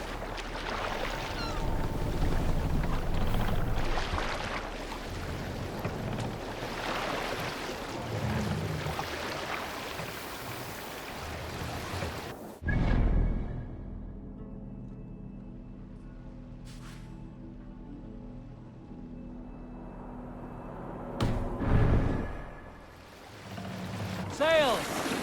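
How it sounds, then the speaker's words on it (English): Ocean waves wash around a sailing Viking longship in Assassin's Creed Valhalla, a steady rushing swell of water and wind that drops away midway, then surges again with soft splashes. "Waves."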